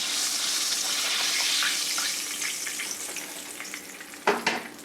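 Chicken cutlets for gluten-free chicken parmesan frying in a pan, a steady bright sizzle that gradually settles, followed near the end by a couple of sharp clatters as more pieces go in.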